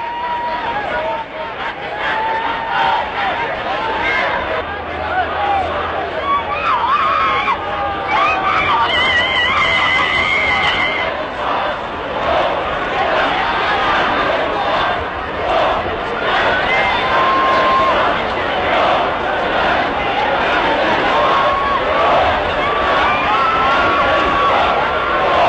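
Enormous crowd of millions shouting and wailing at Nasser's funeral in Egypt, a dense, loud, continuous roar of massed voices with cries and chants rising through it.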